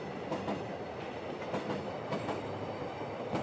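A subway train rumbles through a metro station in a horror video game, a steady loud rolling drone with faint rhythmic clacks of the wheels running throughout.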